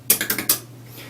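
A quick run of five crisp, hissy clicks, close and dry, made by mouth imitating a hi-hat, then fading to quiet.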